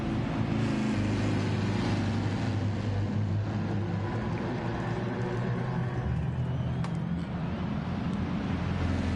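Race car engine from the driving game GT Sport, a steady dense droning roar that holds at an even loudness throughout with no clear breaks.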